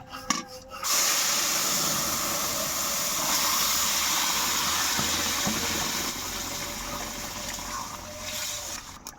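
Hot oil hissing loudly in a pan as bay leaves go in, a sharp clatter at the start followed by a steady sizzle that eases slightly toward the end.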